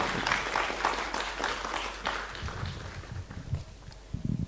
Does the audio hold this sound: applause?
yes